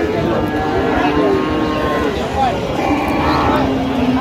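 Cattle low loudly and repeatedly at a busy cow market where thin dairy cows are sold, the deep moos carrying over the noisy crowd chatter around them.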